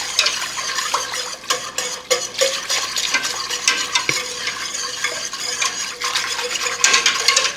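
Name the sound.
whisking cream sauce base in a pan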